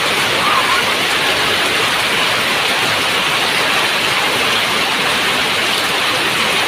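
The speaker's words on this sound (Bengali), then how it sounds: "এই যে বৃষ্টি নামতেছে, অনেক বৃষ্টি নামতেছে।" Heavy rain pours down in a village, a loud, dense, continuous roar of falling water and drops on surfaces.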